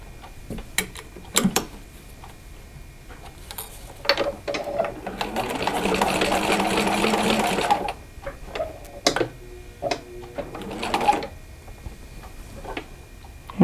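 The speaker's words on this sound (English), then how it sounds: "I'm going to go ahead and stitch this down." A sewing machine stitches down fabric for a zippered coin purse, running in a steady buzzing burst of several seconds in the middle, with short start-stop spurts and mechanical clicks before and after.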